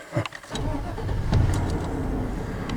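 A 1999 Chevrolet Suburban engine cranks briefly, then catches and settles into a steady, close rumbling idle.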